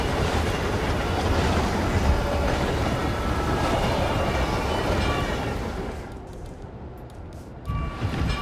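A train rolling along rails in the Hitman Freelancer video game gives a loud, steady rumble that fades and thins out in the last couple of seconds, with no one talking.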